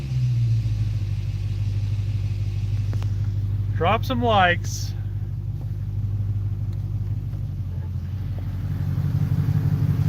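A car with a stock muffler idles in a shop, its steady low exhaust rumble continuing close by while someone speaks briefly over it midway.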